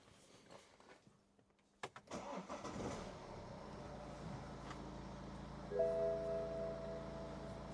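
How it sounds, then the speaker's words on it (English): A car starts up after a few quiet clicks: a brief cranking burst, then the engine settles into a low steady idle, with a thin whining tone joining near the end. "And if we start the car up,"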